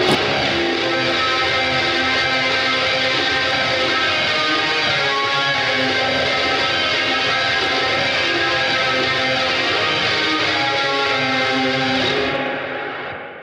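A loud, effect-laden electric guitar line plays continuously, thick with echo and distortion, before fading out at the end.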